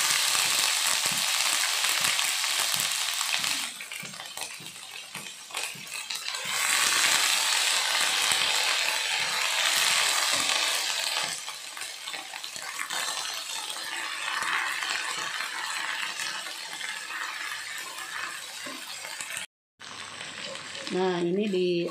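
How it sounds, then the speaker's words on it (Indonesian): Ground spice paste sizzles in hot oil in a wok, a steady loud hiss with occasional stirring scrapes and rattles, briefly interrupted near the end. "Panaskan wajan, beri minyak secukupnya, kita tumis dulu ya bahannya yang sudah diulek tadi."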